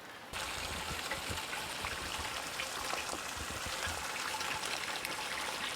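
Continuous close trickle of natural spring water, a steady bright splashing flow that never pauses, with no voices.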